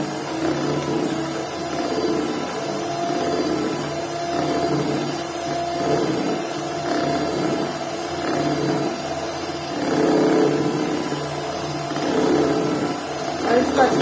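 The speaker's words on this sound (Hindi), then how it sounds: "जर्दी हम इसमें आहिस्ता आहिस्ता शामिल करते रहेंगे और बीटर साथ चलाते रहेंगे।" An electric hand beater whirs steadily through cake batter as egg yolks are gradually added, a continuous mid-level motor drone lasting throughout with slight surges in intensity.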